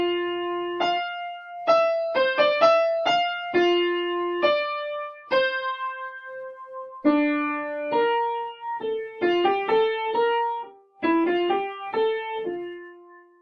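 The main theme of a song is played as a clear solo melody on a single tonal instrument, a run of distinct sustained and shorter notes with brief gaps between phrases and no voices.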